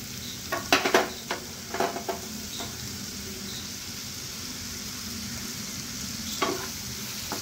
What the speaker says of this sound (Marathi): ते 1 मिनिटभर आपण थोडं परतवून घ्यायचं आहे।